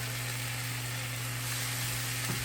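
Ponzu citrus soy sauce and butter sizzle in a hot pan with sesame seeds for soy-glazed meatballs, a steady, even hiss over a low electrical hum, continuous and close with no talk.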